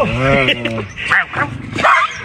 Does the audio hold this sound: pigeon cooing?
no